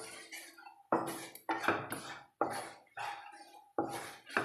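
A mixed spice masala powder is stirred and fried in oil in a pan while cooking sardines, giving a series of close scraping, sizzling bursts in an uneven rhythm, with no talking.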